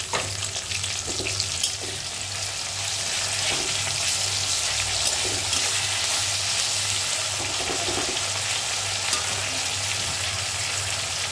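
Tomatoes fry in a hot pan for palak paneer, a dense continuous sizzle that holds steady and close over a low hum. A few faint clinks and stirs come through underneath.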